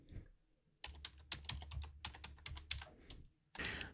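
Rapid keystrokes on a computer keyboard as a passphrase is entered at an SSH login prompt: several short bursts of close, crisp clicks with brief pauses between them, and a final cluster at the end.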